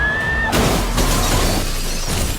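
Movie sound effect of a self-driving Caslin car crashing: a loud shattering smash of breaking glass and metal after a brief tone, sustained as a dense crash before cutting off abruptly.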